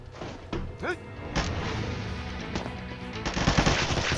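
Rapid automatic gunfire in the online shooter Combat Master, loud and close, with bursts of shots and impacts running continuously under excited talk.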